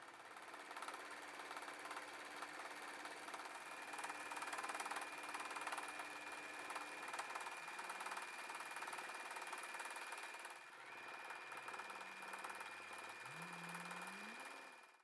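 A sewing machine runs a zigzag stitch for free-motion thread sketching of a fossil fish in split rock, giving a steady, continuous mechanical whir with a fast stitching rhythm throughout and no talking.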